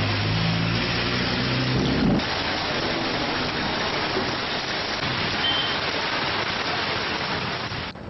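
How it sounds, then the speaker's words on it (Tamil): Heavy rain pours down in a town in Tamil Nadu, a dense unbroken roar of water filling the scene, with a brief low vehicle rumble at the start. "தூத்துக்குடியிலும் நேற்று கனமழை கொட்டி தீர்த்தது"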